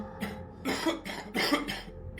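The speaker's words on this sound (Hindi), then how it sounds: "अंदर से वही खांसी आ रही थी" Harsh, rasping coughs come in a run of several bursts at close range, part of a horror story set during a COVID lockdown, with no talking over them.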